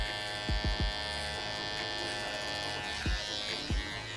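An electric hair trimmer buzzes steadily and close while cutting along a woman's neckline, with a continuous high whine and a few soft thumps or bumps from handling.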